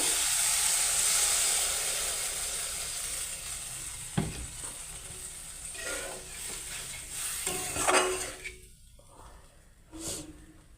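Water hits fried spice masala in a pan for an egg curry, sending up a loud rushing hiss that slowly fades into gentler bubbling sizzle, with a few sharp clatters from a spoon or pot.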